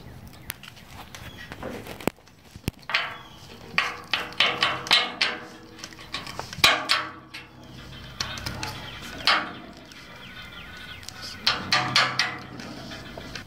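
Metal parts clank and tap as a rear suspension shackle goes onto a 1966 Ford Bronco during restoration, with irregular close knocks and scrapes in bursts and short pauses, no talking.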